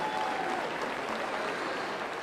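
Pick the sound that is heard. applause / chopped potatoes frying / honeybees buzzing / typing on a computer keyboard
applause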